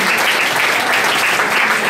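An audience at an outdoor summer festival awards event in Aversa, Italy, gives a dense, loud and steady round of clapping.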